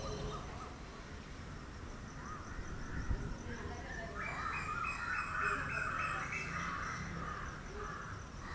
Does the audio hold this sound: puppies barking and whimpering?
no